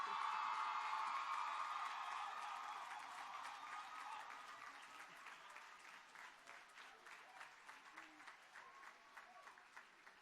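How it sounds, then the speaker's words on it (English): Loud applause from a graduation ceremony audience for the 2018 class at Sir Arthur Lewis Community College, with scattered whoops and cheers. The clapping is strongest at first, then eases to a steadier, lighter patter. "Ladies and gentlemen, a rousing round of applause,"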